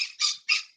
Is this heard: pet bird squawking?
yes